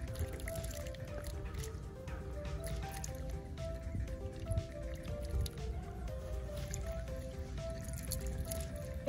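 Mentos dropped into soda erupt in a steady wet fizzing and dribbling, liquid spattering close by in a continuous foamy hiss with a faint background tone.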